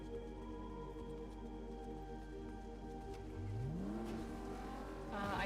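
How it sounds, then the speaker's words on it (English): A car engine in a video game about robbing a bank, heard as a steady low rumble under ambient game sounds, then a rising pitch sweep as the car approaches and revs, with no talking. "I hear a car."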